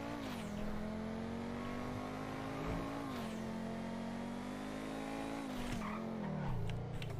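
A car on a GTA V test drive revs hard through steady gear pulls, its engine drone rising and dipping, with tires squealing and skidding at moments, loud and close throughout.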